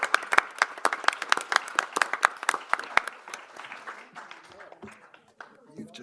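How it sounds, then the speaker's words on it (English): Conference attendees clap for the speakers, a sparse crowd of sharp, distinct claps that thins out over a few seconds, followed by people chatting nearby. "I invite you all now to just a round of applause for everybody"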